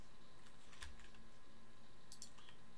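Light mouse clicks while editing voxels in the game Landmark, a few faint sharp clicks spaced apart over a quiet background hum.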